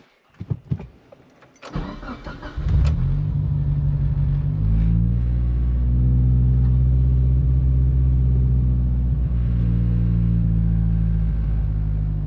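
A Mitsubishi Evo IX with a misfire starts up after a few brief clicks and rattles, the engine catching with a burst and settling into a loud, steady, close idle rumble.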